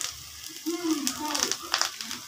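Red chili powder hits hot oil in a home kitchen pan, giving a steady bright sizzle with a brief low voice hum partway through.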